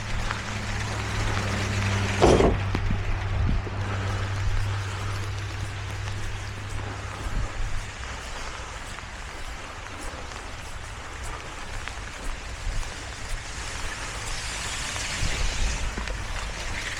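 Steady rain hisses down outdoors during a solo landscaper's rain day, a continuous wash of drops with a low engine rumble in the first several seconds and a brief knock near the start.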